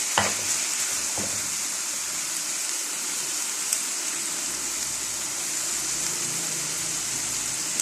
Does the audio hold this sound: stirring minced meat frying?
yes